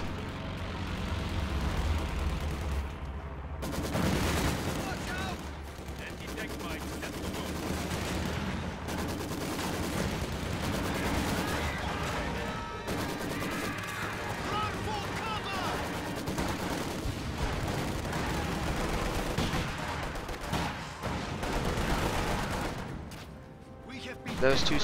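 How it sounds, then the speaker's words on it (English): Aircraft strafing run raking infantry with gunfire in a Company of Heroes battle, a dense, sustained barrage of rapid shots and booms mixed with battlefield rumble, loud and continuous over roughly twenty-five seconds, with talk running underneath. "Anti-infantry strafe coming in on these infantry will probably force a retreat."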